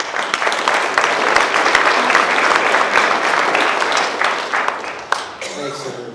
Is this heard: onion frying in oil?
no